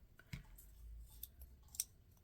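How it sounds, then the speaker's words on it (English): Scissors snipping through the pages of an old book being cut up for a mushroom sculpture craft; a few crisp, separate snips, close and quiet, with no talking. "Now you can use scissors or an X-Acto knife or a combination of both."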